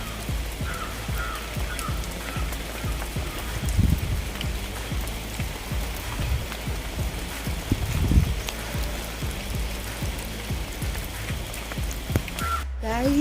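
Steady rain falls at a hill resort in Chikmagalur, a dense continuous patter with scattered heavier drops and a couple of louder splashes, with no voices over it.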